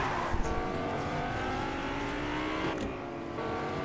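Car driving in the Fortnite video game: a steady engine drone with shifting pitch, moderately loud and continuous, with no talk.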